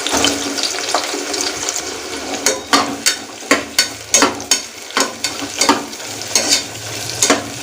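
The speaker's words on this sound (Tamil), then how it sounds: "ஃப்ளேமை மீடியம் ஃப்ளேமில் வச்சுட்டு கட் பண்ணி வச்சுருக்க ஆனியன் எல்லாத்தையும் சேர்த்துடலாம்." Sliced onions and whole spices sautéing in oil in a pan over a medium flame for a layered beef biryani, a bright sizzle punctuated by a regular rhythm of stirring strokes scraping the pan.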